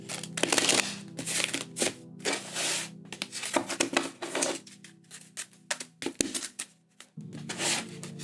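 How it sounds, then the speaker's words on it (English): Tarot cards being shuffled by hand, a series of soft papery riffles and flutters in close bursts over a low steady hum, with short pauses between bursts. "we're going to do 3 shuffles again into your energies"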